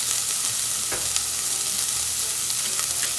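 Onions frying in a pan for a Korean-style dish, with a steady, loud, close sizzle and occasional stirring clicks, no voices.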